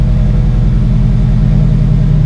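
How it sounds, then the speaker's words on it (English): A Subaru BRZ/FRS/GT86 fitted with a Tsudo header and aftermarket exhaust rumbles loudly and steadily at close range, a deep continuous drone with a pulsing low-end throb and no voices. "I hope you don't mind loud exhaust"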